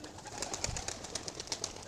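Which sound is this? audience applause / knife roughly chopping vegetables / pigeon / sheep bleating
pigeon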